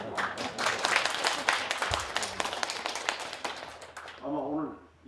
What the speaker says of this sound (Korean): 처음으로 박수를 축하드립니다